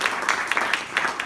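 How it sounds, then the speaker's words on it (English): A brief burst of applause, with many hands clapping in a steady patter from a crowd at moderate volume. "I think we give him a warm applause."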